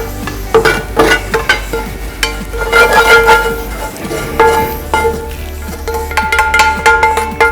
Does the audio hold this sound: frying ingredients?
yes